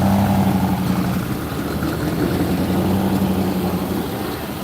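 A passing pickup truck's diesel engine makes a steady low rumble that holds at a constant drone with a slight rise and fall, loud and fairly close, with no talking over it.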